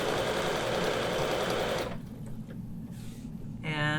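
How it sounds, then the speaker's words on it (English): A sewing machine stitching diagonal quilting lines with a ruler, running in a rapid steady whir for about two seconds and then stopping; a short burst of speech follows the stitching. "Now I'm going to come down to the next 3-inch line, and I'm going to stitch diagonally down to that"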